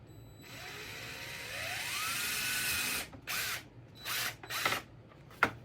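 A power drill whines up steadily as it bores a hole, then gives several short bursts, fairly close and loud against a quiet room.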